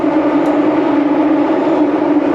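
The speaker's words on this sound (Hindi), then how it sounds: "बहुत स्पीड से चलती है यहाँ की मेट्रो।" A Singapore metro train runs at speed, its steady loud rumble and rushing hum heard from inside the carriage, continuous and unbroken throughout.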